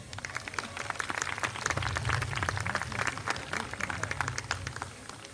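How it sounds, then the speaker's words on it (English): Applause from a crowd at a commencement ceremony celebrating the Class of 2023, a steady wash of many hands clapping that swells in the middle and carries on for several seconds, fairly distant and moderate in level. "As well as a round of applause."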